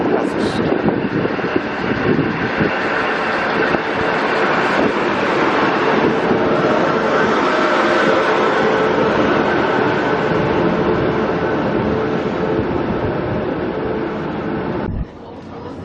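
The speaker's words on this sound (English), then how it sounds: "is a two-car DMU known as the Bathurst Bullet coming into Central Station Platform 3" Two-car DMU diesel train, the Bathurst Bullet, arriving at Central Station in Sydney, a loud steady engine rumble and rolling drone that holds throughout before cutting off at the end.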